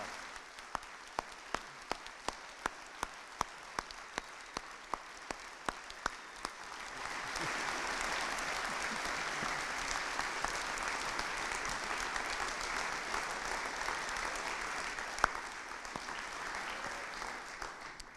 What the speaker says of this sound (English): I'd just like them to stand up and give them all a huge round of applause down here.